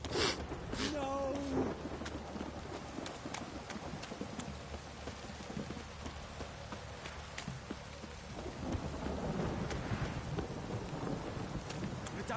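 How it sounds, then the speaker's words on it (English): Steady rain and low rolling thunder rumble through a downpour in The Witcher 3: Wild Hunt, a continuous wet hiss over a deep background growl, with a brief voice near the start. "If it don't stop raining, my arse will rot off."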